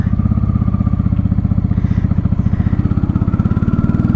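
A 1995 Honda Shadow VLX 600 V-twin motorcycle under way in second gear, its engine giving a loud, steady, close pulsing rumble throughout the short stretch.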